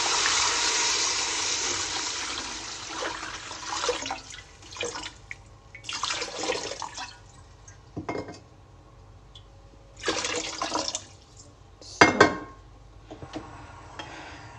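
Water pours into a cooking pot of tomato chutney and basmati rice, a splashing gush at first that breaks into several shorter pours and sloshes with quieter gaps between them, close and without speech.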